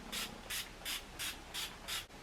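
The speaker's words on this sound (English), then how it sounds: "we're going to use the Radiant Finish Long Lasting Setting Spray" NYX Radiant Finish Long Lasting Setting Spray misted onto a face in six quick, evenly spaced hissing bursts, close and clear with nothing underneath.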